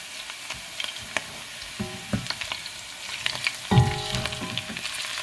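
Onions fry in oil in a deep pot while being made into chicken pulao, giving a soft crackling sizzle with scattered metallic clinks of a spoon and a louder stirring scrape near the end, close and without voices.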